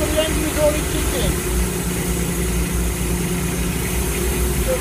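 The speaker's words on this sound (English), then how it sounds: "the engine is already kicking." A hot-water high-pressure steam cleaning washer's engine, rated at 110 bar and 150 degrees, runs as a continuous low mechanical drone with a steady hum, no change in pitch or level throughout.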